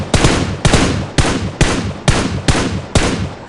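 Gunfire in the PUBG Mobile video game: seven loud, evenly spaced shots, each a sharp crack that decays over about half a second, fired in a steady rhythm with no talk.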